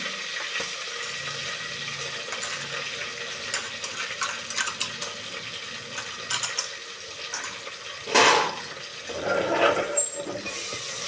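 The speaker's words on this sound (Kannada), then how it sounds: "ಹಾಕ್ಕೊಂಡು ಚೆನ್ನಾಗಿ ಇದನ್ನು ಎಣ್ಣೆಯಲ್ಲಿ ಫ್ರೈ ಮಾಡ್ಕೋಬೇಕು" Garlic and coriander paste fries in oil for an egg biryani, a low steady sizzle with scattered stirring scrapes and two louder clattering bursts near the end, heard close with no voices.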